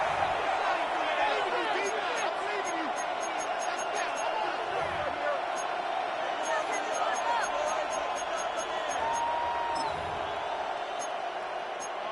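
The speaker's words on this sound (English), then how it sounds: "This crowd into it now as we get to third down" Football stadium crowd with Atlanta on the field, a steady roar of fans building before third down, with a commentator's voice running over it.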